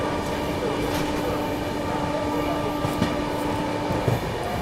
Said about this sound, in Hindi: तो ये है CR राजधानी और भैया ये हमको आगे चल के ओवरटेक करेगी।